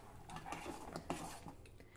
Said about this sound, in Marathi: याला छान उकळी येईपर्यंत हे आपल्याला सतत ढवळत राहायचं आहे, नाहीतर पीठ खाली तळाला लागण्याची शक्यता असते